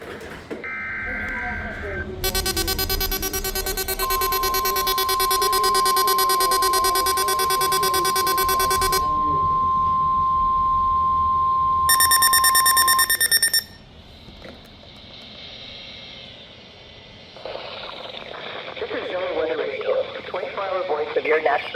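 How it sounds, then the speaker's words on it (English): NOAA Weather Radio EAS test alert from Ruskin, Florida for the Florida listening area: loud buzzing data bursts, then a long steady warning tone, another short burst, and softer broadcast sound afterward. "The preceding signal is a test of the public warning and alarm for transmitters in the Florida listening area originating from Ruskin, Florida."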